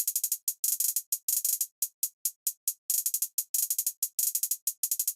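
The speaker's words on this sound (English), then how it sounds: "So my hi-hat, if I'm not mistaken, yeah, colored in yellow, sounds like this." Crisp, bright hi-hat pattern from an FL Studio trap beat, fast ticking hits with rapid rolls and stutters and short gaps, heard alone and up close.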